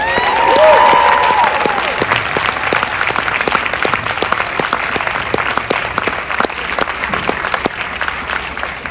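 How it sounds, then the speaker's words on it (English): An indoor audience at a film Q&A applauds steadily, a dense wash of many hands clapping that holds loud and even throughout without speech over it. "Isn't it nice to be in a room again where people are clapping for you?"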